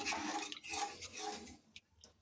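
Bhola fish curry gravy with spring onions comes to a boil in a pan over a raised gas flame, giving a steady bubbling hiss for most of the moment before it thins out to a few soft pops.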